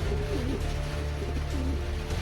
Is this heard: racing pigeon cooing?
yes